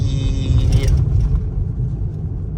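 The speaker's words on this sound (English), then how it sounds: "Look at the traffic, y'all." Road traffic rumbles from inside or beside a car, a close, loud low engine and tire drone with a brief brighter whoosh of a passing vehicle early on before settling into a steady rumble.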